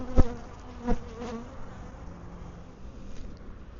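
Honeybees hum steadily around an open, calm beehive in Wisconsin, a close, continuous buzzing drone with a couple of brief louder knocks near the start, and no talk.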